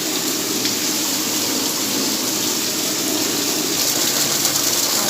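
Water pouring steadily into an underground storage tank during rain, a continuous loud rushing and splashing flow with no pauses and no voices.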